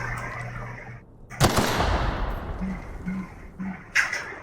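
A gun in the video game The Outer Worlds fires one sharp, loud shot with a long fading tail, then a second crack follows a few seconds later, with quiet in between.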